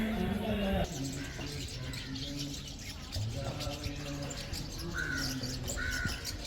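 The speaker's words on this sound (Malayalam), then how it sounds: "ഇങ്ങനത്തെ ചെറിയ കിളികൾ ഇതിൻ്റെ അകത്ത് നിന്ന് ഒത്തിരി കണ്ടമാനം നിന്ന് കരയുന്നുണ്ട്." Many small birds call from a tree at the back of Kattil Mekkathil Devi temple, with harsh crow-like caws and chirps rising over dense, steady outdoor noise.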